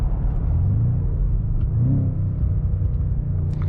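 A 2025 BMW M5 accelerates hard with its engine revving, a loud, steady low rumble whose pitch sweeps upward twice as it pulls through the gears, with no voices over it.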